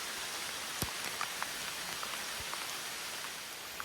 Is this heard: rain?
yes